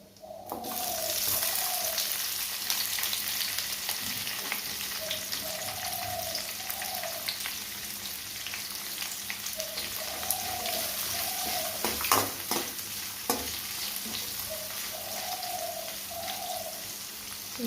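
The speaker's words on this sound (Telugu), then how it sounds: "ఆనియన్స్ ఇలా ఫ్రై అవ్వాలి." Onions fry in a pan with a continuous hissing sizzle, made while preparing tomato rice. Faint repeating tonal chirps sound in the background, and no one speaks.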